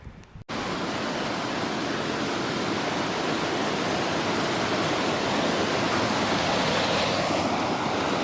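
Birch Creek in the Sierra Nevada's Paiute Creek Basin, Inyo National Forest, rushes past close by, a loud, steady broadband roar of flowing water that starts abruptly and holds unbroken throughout.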